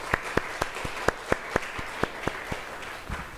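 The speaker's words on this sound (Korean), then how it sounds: "우리 하나님께 영광의 박수 올려드리시겠습니다." Church congregation clapping during a Sunday worship service: a steady series of about a dozen sharp, evenly spaced claps, moderately near, with no voices over them.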